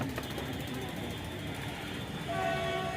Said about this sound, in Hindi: तो हम पहुंच गए हैं गाज़ियाबाद रेलवे स्टेशन